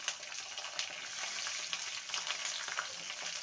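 Vegetable stalks and already fried potatoes sizzle together in a pan with a steady close hiss of oil, and faint stirring scrapes come through now and then.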